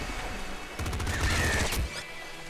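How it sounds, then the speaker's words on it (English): Bursts of gunfire from the top-down shooter Nuclear Throne, a dense crackling volley with a car exploding, loud and close against a steady game backdrop. "I'm just gonna shoot that in there and blow that car up"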